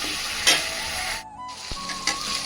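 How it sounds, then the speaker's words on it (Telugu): Steady loud sizzling of dried red chilies frying in hot oil for tomato chutney, with a brief dip and a few stirring clinks, no voices. "మనం ఆల్రెడీ ఇంత ఆయిల్లో వేయించుకుంటాం"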